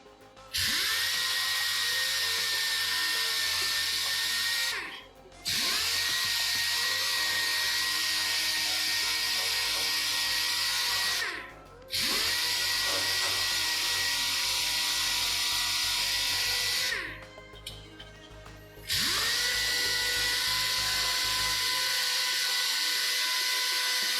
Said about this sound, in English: I'll sand that a little bit with the D8 sander.